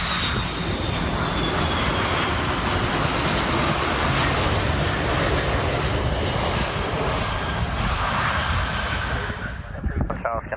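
A heavy airliner lands on runway 12 at Miami International Airport, its loud, broad engine roar steady and close throughout before easing slightly near the end.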